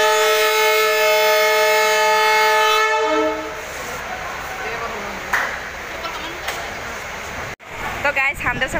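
A train at Forkating railway station sounds a long, loud, steady horn for about three seconds, then rumbles on with clanks and a brief louder burst, the noise cutting off sharply near the end.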